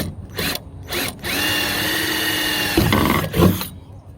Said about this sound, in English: drill your second hole